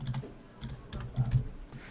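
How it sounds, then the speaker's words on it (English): Short burst of typing on a computer keyboard, several soft irregular key clicks close by and quiet, with no talk. "and I will type Cartman."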